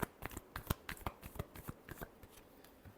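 A deck of tarot cards gets one last brisk shuffle nearby, a short series of sharp papery flicks and taps that thin out toward the end.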